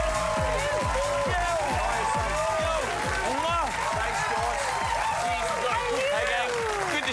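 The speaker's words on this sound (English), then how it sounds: "will you please keep your applause going for Ryan Fitzgerald and Brie Amer?" Studio audience applause and cheering with whoops for the hosts of a 2007 Channel 10 TV show, loud and steady for the whole stretch.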